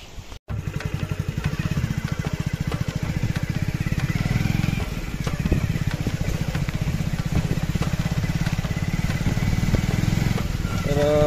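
A motorcycle rides along a muddy red-soil shortcut road in heavy rain, its engine running steadily and close with a continuous rough, pulsing drone for nearly the whole stretch after a brief start.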